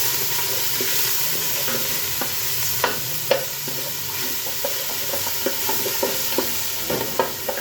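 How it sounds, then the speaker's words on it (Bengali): Garlic and ginger paste frying in a pot and being stirred for a beef leg soup, a steady close sizzle broken by scattered light scrapes and taps of the spoon, with no voices. "মশলাটা একটু ঘেঁটে নিলে খুব সুন্দর ফ্লেভার আসবে"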